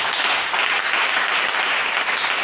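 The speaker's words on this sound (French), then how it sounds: "On acclame le Seigneur." A church congregation applauds at an evangelical service, a steady, dense wash of clapping at moderate volume that carries on unbroken without any speech.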